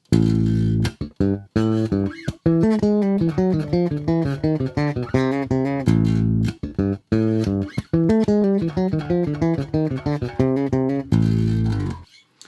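A bass guitar plays a slow, deliberate lick, with distinct plucked notes stepping through a phrase alone, with no voices.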